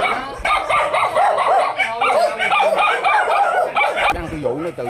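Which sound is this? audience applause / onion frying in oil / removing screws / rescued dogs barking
rescued dogs barking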